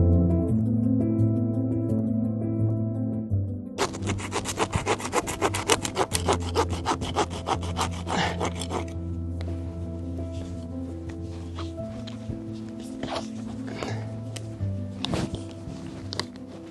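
A hand saw cuts through garden hoops with rapid, rasping back-and-forth strokes, close and fairly loud, following a low hum at the start and ending in slower, scattered scrapes.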